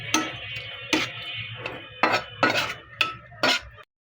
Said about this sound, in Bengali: এখন নেড়ে চেড়ে মিশিয়ে নেব